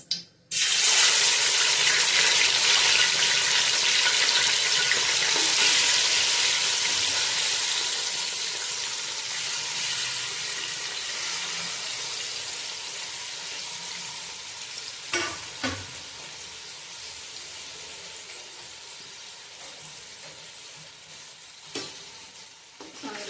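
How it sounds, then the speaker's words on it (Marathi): Mutton pieces dropped into hot oil for a spicy Ghati-style mutton curry, setting off a loud, dense sizzle that gradually softens over time, with a few sharp clinks of a stirring spoon. "तेल गरम झाले. आता आपण यात मटण टाकूया."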